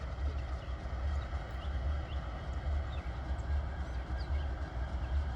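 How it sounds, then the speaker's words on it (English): Distant train rumble near Norfolk Southern tracks around Sandusky, Huron and Vermilion Township, Ohio, a low steady rolling drone with faint rattles, far off and without talk. "I think I hear a train coming somewhere."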